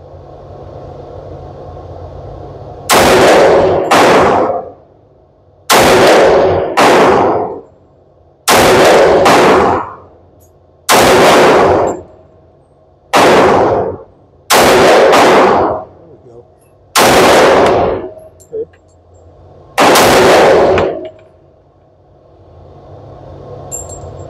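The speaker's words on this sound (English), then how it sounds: "let that coffee kick in and see if we can put some accurate rounds down range" Eight loud pistol shots from a TISAS 1911 4.25-inch carry pistol in .45 ACP, fired at a target one at a time with pauses of two to three seconds, each sharp crack trailing a brief echo over a quiet outdoor background.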